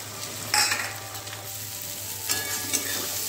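An egg drops into frying spice masala with tomato for dhaba-style egg tadka, a loud sharp sizzle flaring at the start and again later over a constant crackling fry with light stirring.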